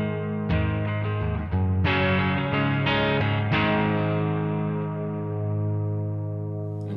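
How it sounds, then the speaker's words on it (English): An electric guitar plays a few chords through a Seraphim Shimmer reverb pedal in standard reverb mode, ringing out and decaying with a long, washy reverb tail, sustained and fairly loud, with no talking. "you're in standard reverb mode"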